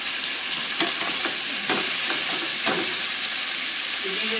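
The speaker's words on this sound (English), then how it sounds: "I got to saute my asparagus, and I got to saute my caramel Brussels sprouts." Asparagus and caramel Brussels sprouts sauté in a hot pan, giving a loud, steady sizzle and hiss with scattered stirring scrapes and clinks throughout.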